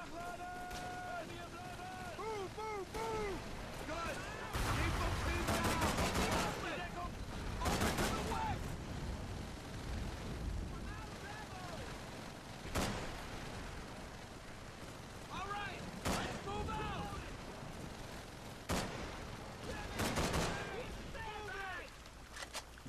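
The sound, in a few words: gunfire in Call of Duty 3 video game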